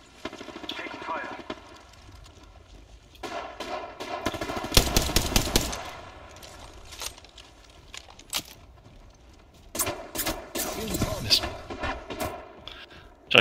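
Rapid bursts of automatic gunfire in a battle royale video game, loud clustered volleys separated by quieter stretches, with players talking over the action.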